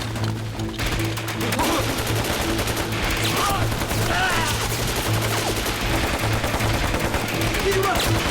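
Sustained gunfire in a shootout, with rapid bursts of automatic weapon fire and scattered single shots crackling continuously over a busy battle din, shouted voices faintly mixed in.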